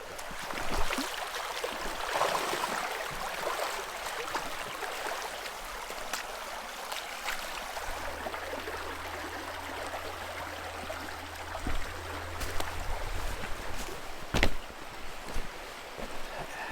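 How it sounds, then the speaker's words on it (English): Broadband rushing of a small brook flowing through backyard woods, steady and moderately close, with occasional splashes and a brief low hum partway through; no talking. "one of the coolest features of our property, and that is the brook here"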